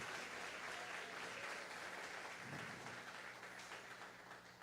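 Faint, even applause from a congregation at a Sunday morning church service, a soft continuous patter without voices that gradually tapers toward the end.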